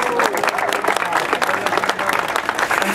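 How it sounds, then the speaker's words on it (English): Warm audience applause for the organizing team at a Dia De La Familia community event at a Home Depot store in Fontana, a dense patter of many hands with crowd noise and some voices mixed in. "Let's give them a warm round of applause."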